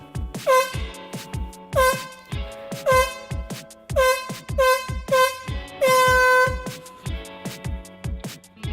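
Loud, blaring air horn blasts repeat in a rhythmic pattern over thumping beats, several long honks in a row.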